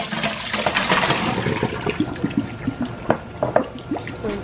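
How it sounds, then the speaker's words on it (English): Water pours and splashes into a kitchen sink as peaches are strained for canning, a gushing rush giving way to irregular drips and sloshes close by, with no talk. "So let's go over to the sink and let's strain off our peaches"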